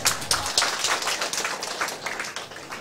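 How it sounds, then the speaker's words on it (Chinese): An audience claps at a legal studies seminar gathering, producing a quick, fairly faint patter of individual hand claps that continues evenly for a few seconds without any talk. "家己掌声鼓励出来"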